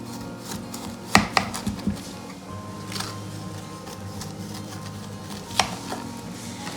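Oat wafers being scored into squares in a pan: a few sharp knife taps and scrapes against the pan bottom, close and fairly quiet, separated by soft background hum with no talking.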